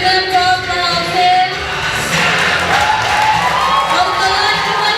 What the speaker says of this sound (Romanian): Întâmpinăm cu aplauze